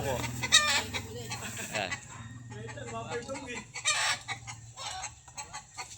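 Chickens cluck and a rooster crows nearby in a loud, busy run of overlapping calls, with a brief spoken word early on.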